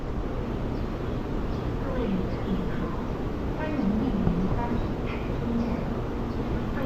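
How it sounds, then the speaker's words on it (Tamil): A train pulls into a station in Taiwan: a steady, loud rumble of rolling carriages fills the whole stretch, with faint voices underneath. "நெக்ஸ்ட்டு நம்ம ட்ரெயின் வந்துட்டுருக்காங்க,"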